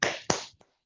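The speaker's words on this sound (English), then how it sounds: "extend your left arm, elbow, palm up, and we'll clap the inside of your elbow 9 times" A palm clapping the inside of the elbow during qigong practice, two crisp slaps in quick succession followed by a faint third tap, close and clear.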